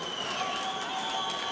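A noisy, tightly grouped section of spectators at an amateur boxing welterweight quarter-final bangs drums and rattles clackers in a steady, dense din with sustained tonal notes, close and continuous throughout.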